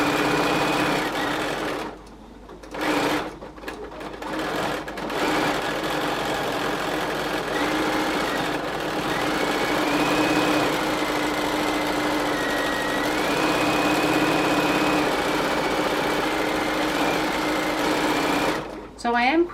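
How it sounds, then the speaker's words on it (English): A sewing machine quilting fabric and batting, sewing closely spaced lines with a steady mechanical whir and hum. It runs almost without pause, with a few brief stops early and at the end, and a person talks over it. "So I am quilting it fairly closely because that helps hold everything in place."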